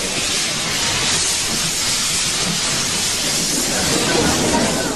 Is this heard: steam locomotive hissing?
yes